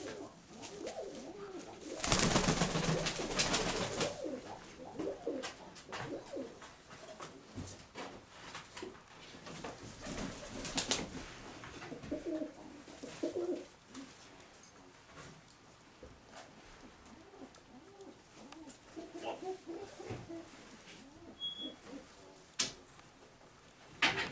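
Crimean (krymak) pigeons coo at close range in a loft, their soft repeated calls running throughout over a low murmur, with a few scattered thumps and a louder rustle near the start.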